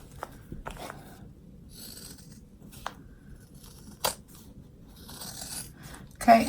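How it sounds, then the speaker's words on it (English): Scissors snip through the excess zipper tape and fabric of a zippered clutch bag, a series of sharp, close cuts spaced irregularly with soft rustling of cloth between them. "you just want to cut all the way around through your excess zipper and everything"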